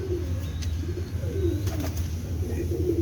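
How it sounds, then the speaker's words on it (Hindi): Soft, low coos from a red-spotted pigeon repeat over a steady hum of background noise, with a few faint chirps from other birds. "ये जैनवन लाल मोती वाला कबूतर है"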